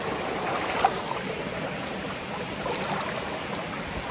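A river flows with a steady, even wash of soft rushing and trickling water, heard at a moderate distance and uninterrupted throughout.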